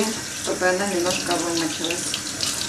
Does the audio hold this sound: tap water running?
yes